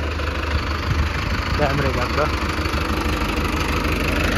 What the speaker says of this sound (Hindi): जिसमें कर दिया भाई ट्रैक्टर स्टार्ट।